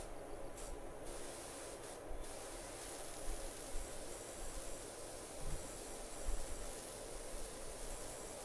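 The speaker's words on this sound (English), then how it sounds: "spray it a little while I'm here" Pressure washer spray in Powerwash Simulator hisses steadily with a continuous broad rush, broken by a few brief louder bursts and small knocks.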